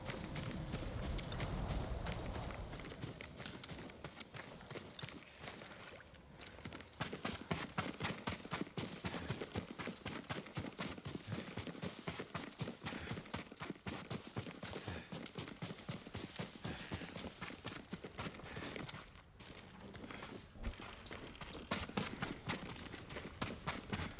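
Horse hooves clip-clop steadily in the video game Ghost of Tsushima, a continuous rhythmic trot that is faint and fairly distant, with no talk over it.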